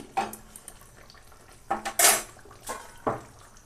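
A pan of mustard hilsa, finished with a drizzle of raw mustard oil, is lifted off the stove: a few sharp metallic clanks and scrapes of cookware, spaced apart, close and fairly loud with quiet gaps between.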